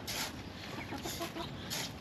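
Backyard chickens cluck close by in a garden, a few short bursts of clucking over a steady outdoor background.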